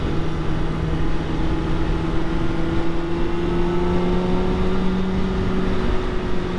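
A motorcycle runs in third gear along the curves of the Tail of the Dragon, with a steady engine drone and wind rush holding at an even pitch, loud and close, with no talk.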